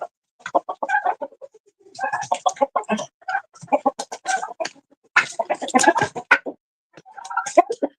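Chickens cluck in a coop beside their feed and water, giving close, repeated bursts of clucks with short quiet gaps between them.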